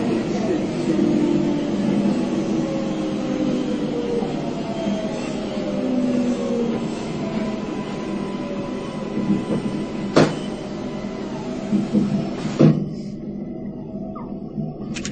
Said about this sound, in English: The subway is moving to your left.